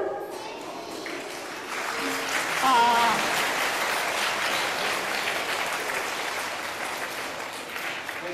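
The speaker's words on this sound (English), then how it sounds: "Give her another clap." A room of children at a Kolkata learning centre applauds someone speaker; clapping swells in after a quiet start, then holds steady and moderately loud, with a voice faintly heard beneath it.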